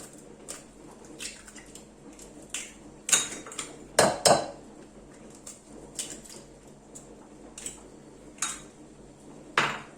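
Eggs cracked into a bowl for an easy homemade dessert, heard as scattered clinks and taps of utensil on bowl with a few sharper knocks, close and fairly quiet, with no voices.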